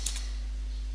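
Keys clacking on a computer keyboard while an Nmap command is entered, a short quick run of close, crisp keystrokes over a steady low hum.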